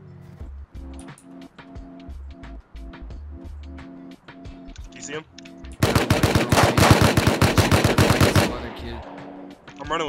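A Tommy gun fires in a video game: quieter rhythmic clatter gives way to a loud, close, sustained burst of rapid shots lasting about three seconds before tapering off.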